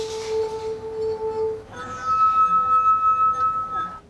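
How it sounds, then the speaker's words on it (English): A wine glass rubbed around its rim with a finger sings with sustained pure ringing tones, one steady note, then a brief break and a higher tone that holds clearly before fading. "if you make a wine glass sing by making the wine glass resonate with your finger"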